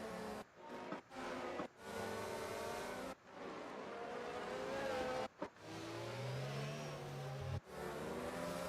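F1 race car engines from an F1 video game on a formation lap, a continuous mid-pitched engine drone with rising and falling revs, broken by several abrupt cuts, steady and fairly close throughout.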